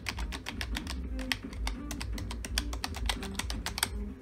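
Keys on a Scorpion computer keyboard are typed in a steady, fairly quick run of close, crisp clicks with no talking over them.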